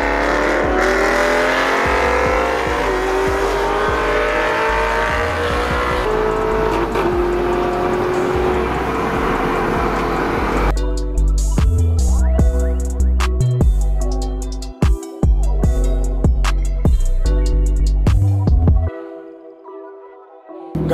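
A BMW M2 drives hard and drifts, its engine roaring and revving with shifting pitch before turning into choppy, pulsing bursts of throttle and tire noise, loud and close, fading to near silence at the end.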